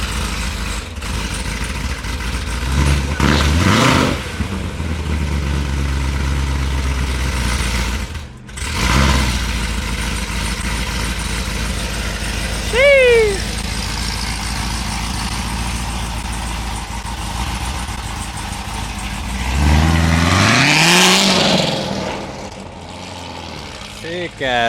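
A C7 Corvette Z06 engine with an LS cam idles loudly and choppily, then revs up in several rising pulls and drops back, up close, with voices talking over parts of it.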